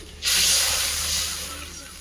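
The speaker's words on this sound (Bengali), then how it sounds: "তারপরে ঢেলে দেব অল্প একটু জল গ্রেভির জন্য। জলটা দিয়ে কিছু সময় ফুটতে দেব।" Water poured into a hot pan with salt, turmeric and spices for a Bengali sole fish gravy hits with a sudden loud hiss and sizzle that then settles into steady steamy simmering, no talk.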